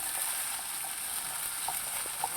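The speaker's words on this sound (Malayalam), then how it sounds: "ഫസ്റ്റ് തന്നെ കടുക് തളിക്കുകയാണ്" Mustard seeds spluttering in hot oil for a long beans upperi, an Onam sadhya side dish, with a steady broadband sizzle and a few faint pops over about two seconds, no voices.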